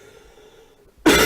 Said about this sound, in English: This cough is really pissing me off.